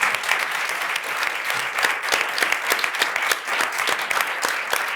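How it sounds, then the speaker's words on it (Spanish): Audience applause at a round table event, steady dense clapping from a crowd at moderate volume, continuous across the whole stretch with no talking. "Un aplauso, por favor, esto es muy importante."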